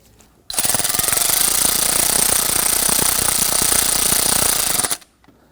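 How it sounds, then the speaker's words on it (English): A ratchet snugs down a bolt on a 2017-2020 Hyundai Elantra's intake variable valve timing solenoid, making a loud, steady, dense mechanical whirring rattle for about four and a half seconds before stopping abruptly. "I'm just going to use my ratchet here."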